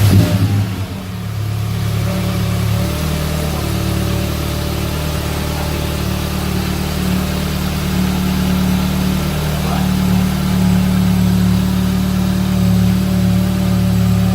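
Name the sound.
Audi S3 engine starting and revving with Revo carbon intake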